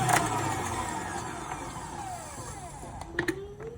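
An electric mixer whips eggs for fudgy chocolate brownies, a steady whirring motor close by that winds down as the machine is stopped, with a couple of clicks near the end.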